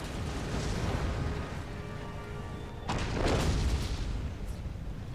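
Cannon fire on an Empire: Total War battlefield, Russian campaign, with booming artillery blasts; a deep rolling rumble swells to a heavier burst near the end.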